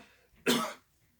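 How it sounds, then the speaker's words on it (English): A single short, sharp cough from a person with a lingering cough, close and clear against near silence. "I've had this cough for a while."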